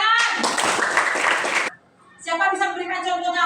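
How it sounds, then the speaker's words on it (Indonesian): A classroom of children claps together in a burst of applause lasting over a second, followed by a pause and then young voices chanting in unison. "Tepuk tangan."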